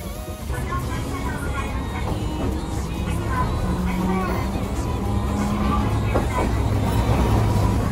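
Last tram of the night departing Sanbashi Shako-mae stop, a steady broad low rumble of the streetcar and surrounding road traffic, continuous and fairly loud with faint voices underneath.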